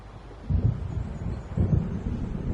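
Approaching storm in Alan Wake, with low rumbling thunder swelling twice over steady wind noise, moderately loud and distant.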